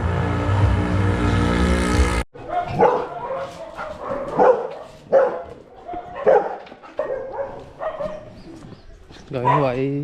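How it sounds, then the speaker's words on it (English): Several dogs bark repeatedly near a tea plantation road in Sri Lanka's hill country, the barks coming in close uneven bursts after a passing engine, with a person talking among them. "Don't know why all those dogs are barking for us."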